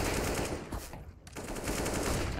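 Rapid gunfire from a Counter-Strike: Global Offensive esports match between G2 Esports and Team Vitality, a dense burst of shots that briefly drops out near the middle and then resumes at full loudness.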